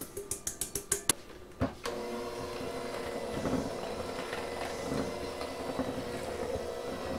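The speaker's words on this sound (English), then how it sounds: "I can't tell you how much I like KitchenAid, not only the stand mixers, Big Red you've seen, but this hand mixer with the slow start" A KitchenAid hand mixer on its slow start, a few quick clicks and a knock at first, then a steady low motor whir that runs on evenly, close by, with no talk.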